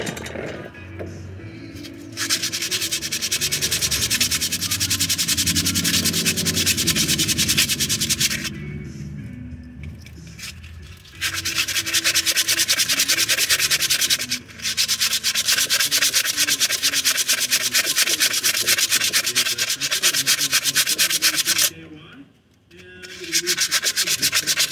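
Steady, close hand sanding on wood: a continuous gritty rasp with short pauses between passes, no talking.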